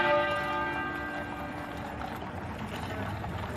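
The great tenor bell of Westminster Abbey tolls in London, its deep, ringing strike decaying slowly with a long sustained hum over faint outdoor background noise.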